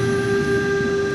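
A DB BR146.2 electric locomotive rolls in during Train Sim World 2, a steady rail rumble with a sustained tonal whine running throughout, loud and close.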